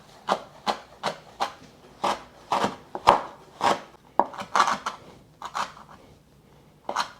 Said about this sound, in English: So we're just going to chop it up finely